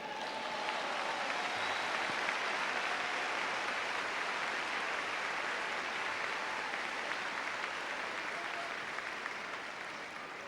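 A church congregation applauds during a pastor's sermon, a steady, continuous wash of many hands clapping at moderate distance, sustained evenly for several seconds with no talking over it.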